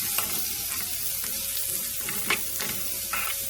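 Chopped onion frying in hot oil with a bright, steady sizzle, broken by a few sharper crackles and stirring scrapes.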